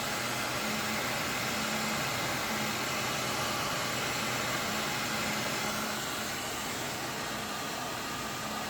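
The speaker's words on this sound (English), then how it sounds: "Nothing like blowing a bunch of fucking heat at your gas tank." Hot air blower pushing heat onto a Suzuki DRZ400 gas tank, a constant broadband whoosh with a faint low hum, steady and unbroken for the whole stretch.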